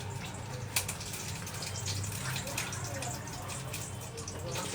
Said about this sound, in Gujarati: એક ગ્લાસ પાણી નાખવાનું અને બનાવવાની છે લાજવાબની ચટણી